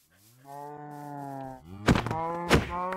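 A cow in a video game gives a long, drawn-out moo, followed by a second moo broken by sharp thuds and clatter, close and clear with no talk.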